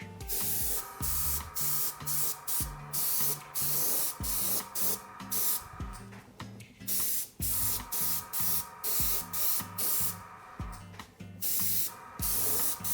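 Airbrush spraying green food colouring onto a gravity-defying cake decoration, a steady close hiss broken into many short bursts with brief pauses, continuous over a faint background.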